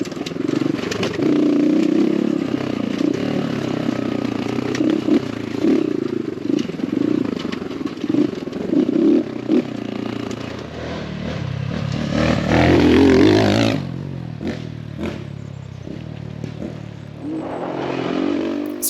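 An X Pro Templar 250cc dual-sport dirt bike rides a trail, its engine droning loud and steady with rising and falling revs, wind buffeting and clatter, before the engine note drops off near the end.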